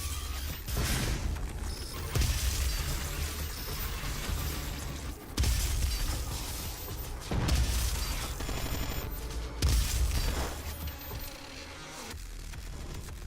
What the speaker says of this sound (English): Breaking out the Gauss cannon.